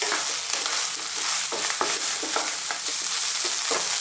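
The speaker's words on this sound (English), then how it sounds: "Keep stirring." Chickpea spinach curry stirred over high heat, a bright, hissing sizzle with a series of quick scraping stirs at a loose rhythm, loud and close, no speech.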